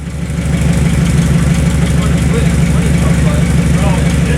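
A car engine idles with a steady, loud low rumble throughout, close by, and a voice is present under it; no clear revving with the throttle is apparent.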